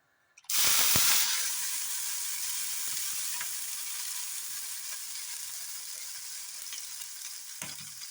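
Water is sprinkled onto a hot oiled pan for rava dosa, setting off a sudden loud burst of hissing steam that settles into a steady sizzle, close by and with no voices.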